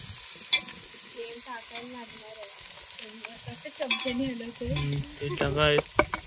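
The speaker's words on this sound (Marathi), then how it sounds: "कांदा एकदम असं परतवायचा आहे चांगल्या प्रकारे" Chopped onion sizzles and is stirred in an oil pan, steady frying with occasional utensil scrapes close by, while voices talk over it at several points.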